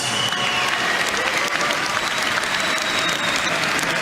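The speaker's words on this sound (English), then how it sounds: "let's get a nice round of applause out here for both of these warriors" A crowd at a heavyweight boxing contest at Wembley, London, claps in sustained, dense applause that stays loud and even from start to finish.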